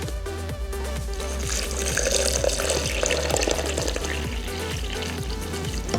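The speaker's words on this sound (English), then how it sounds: "So we're just going to pour that in till we hit that minimum line." Water pours steadily into a plant milk maker, a continuous splashing trickle heard up close with no talking.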